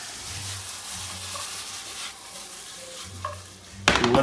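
Onions, carrots and celery cook in browning butter for braised-meat ravioli filling, giving a steady close sizzle with occasional stirring scrapes and a louder clatter near the end.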